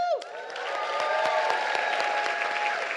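A live audience applauds and cheers to welcome the moderator onto a stage at a panel event, a dense, steady wash of clapping with a few whoops rising over it.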